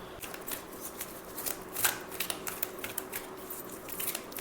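Tarot cards are shuffled and drawn by hand, soft papery flicks and rustles in an irregular patter, faint and close with no talk.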